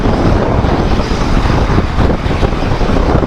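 Loud, steady wind roars over the microphone during a solo motorbike ride near Chitradurga on the way from Bangalore to Hampi, a constant close buffeting rush with no talking.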